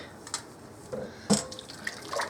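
Liquid stock is poured into a chicken and noodle casserole in a few short, close splashes and trickles, quiet and uneven, with no talk over them.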